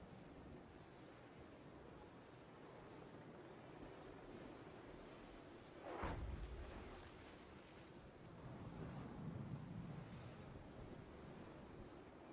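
Ocean waves and rolling swells surge in a sailing yacht racing game, a low steady wash with a louder splash burst midway and wind noise throughout, fairly quiet and without talk.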